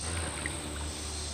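A boat engine with a loud, rough exhaust runs on an urban creek, a steady, fairly close drone with a low rumble and constant hiss throughout.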